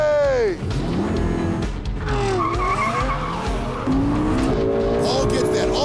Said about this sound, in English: Paul gets that all-wheel drive launch.